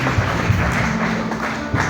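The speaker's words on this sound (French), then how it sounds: "On va applaudir plus fort, applaudir pour Dieu, applaudir l'église" A church congregation applauds together in a dense, steady wash of clapping that fills the room, loud and continuous throughout.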